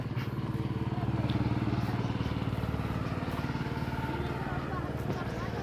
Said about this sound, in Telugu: మేము ఈరోజు మోటార్తో వాటర్ తోడుతున్నాం అన్నమాట